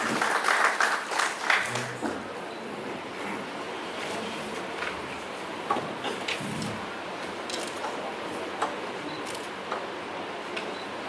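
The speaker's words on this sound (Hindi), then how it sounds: "जोरदार तालियों के साथ आदरणीय सौरभ लवानिया साहब" Applause rises briefly at a legal seminar on public interest litigation and environmental law, a short burst of clapping at the start that fades into a quiet room with scattered faint taps.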